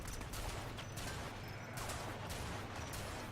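Magnus pistol fire in the video game Warframe, a dense, steady run of close shots and impacts packed together across the whole moment with no pause.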